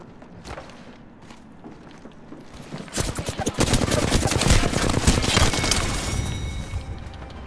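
Gunfire in the video game Apex Legends, including Kraber sniper shots, with a few light footsteps first and then dense, loud bursts of rapid shooting and impacts.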